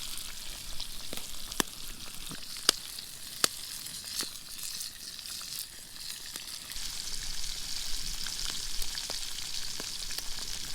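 Steady frying sizzle from brook trout in a pan, a crackling hiss with scattered sharp pops, growing a little louder toward the end; no talking.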